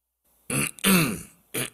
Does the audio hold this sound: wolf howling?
no